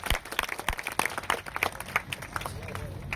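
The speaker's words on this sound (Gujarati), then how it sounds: "આપણે અહીંયાથી ખૂબ તાળીઓના ગડગડાટથી વધાવીશું" A crowd at a Gujarati community gathering bursts into dense, lively clapping, close and continuous, with voices mixed into the noise.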